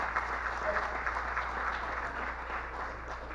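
Audience applause after a virtual conference talk at a hacking event, a short, fairly quiet and steady patter of clapping heard at a distance.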